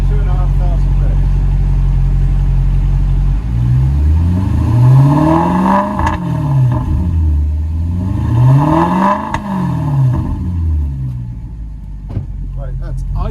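Maserati GranTurismo 4.2 V8 with its exhaust valves open, idling at a deep steady rumble, then blipped twice from low revs to a deeper roar and back, with a voice talking over it.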